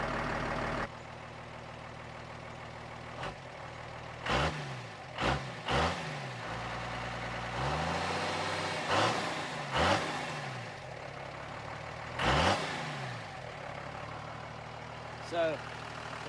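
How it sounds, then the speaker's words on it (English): A diesel Toyota Land Cruiser idles with a low, even rumble, broken by about eight short throttle blips that rise and fall back, plus one longer swell of revs midway. The engine sounds moderately distant and fairly quiet. "Listen to that diesel just purr."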